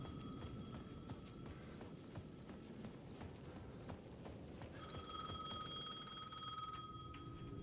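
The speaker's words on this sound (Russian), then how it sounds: "The payphone at the edge of the plaza was ringing again." A payphone rings at the edge of a plaza in Alan Wake II: a repeated bright electronic ring, steady tones at moderate level, over a busy rhythmic game ambience with clip-clop-like taps.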